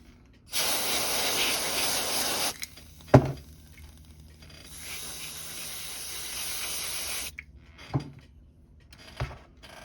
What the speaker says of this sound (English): let me put some freezer spray on it